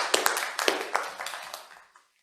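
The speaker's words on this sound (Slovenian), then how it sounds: "da tudi en močan aplavz." Applause from the audience at the Jesenko awards ceremony for faculty research work, a burst of claps that fades out within about two seconds.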